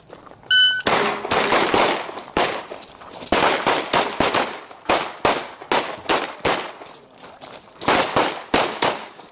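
Pistols fire during a shooting-course drill at an indoor range: many sharp, close shots in quick uneven bursts, some overlapping, with no pause for the whole stretch.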